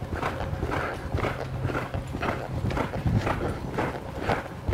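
Horse hooves clip-clopping in a steady rhythmic gait during a reining pattern practice, close and clear, repeating evenly for several seconds with no talk.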